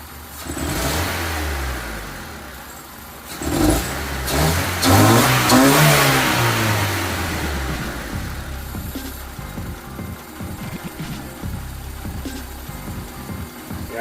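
A 2001 Honda Civic LX engine revs up and down unevenly, surging and then sagging as it stumbles toward a stall before settling into a rough, wavering idle, loud and close.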